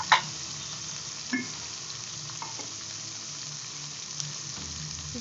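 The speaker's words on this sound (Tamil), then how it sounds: "சின்ன வெங்காயத்தை நல்லா கலருங்க." Small onions fry in hot oil for a squid gravy, a steady close sizzle broken by a few clinks and scrapes as a spoon stirs the pan, with no talking.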